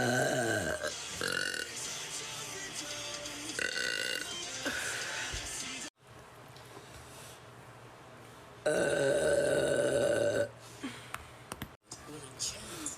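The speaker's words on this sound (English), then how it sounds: "Yes, I did burp at the camera." A woman burps at the camera several times: loud, drawn-out belches with short pauses and a brief gap of near quiet between them.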